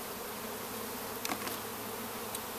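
Honey bees hum at an open hive during a Bailey comb exchange, a quiet continuous drone with a couple of brief, sharp clicks or knocks from handling the frames.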